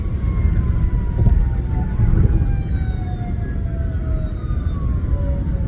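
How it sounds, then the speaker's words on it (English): A fire truck siren wails on a highway, its falling tones sweeping steadily downward as it passes, loud and sustained over rumbling road noise. "There goes a fire truck"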